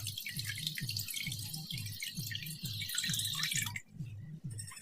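Water drips steadily from a leaking source, a close, rhythmic run of repeated drops over a continuous watery hiss, with no talking.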